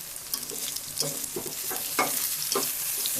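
Brinjal and potato pieces fry in a pan with chaat masala: a bright, constant sizzle broken by repeated spatula scrapes, close and fairly loud, with no voices.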